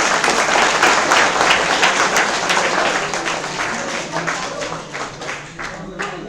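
An audience at a chemistry class event breaks into loud, dense applause that holds for several seconds and then slowly thins. Some voices can be heard under the clapping.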